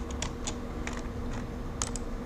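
Computer keyboard keys pressed in short, irregular clusters of crisp clicks at moderate loudness over a steady background hum, during SketchUp 3D modelling work, with no voices.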